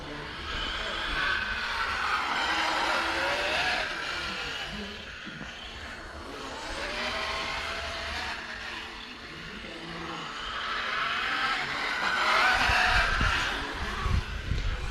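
Electric RC buggies, an HPI Apache against a Hobao VT, running on slick tyres, their motors whining and rising and falling in pitch as they pass close by. Voices can be heard at times under the motors.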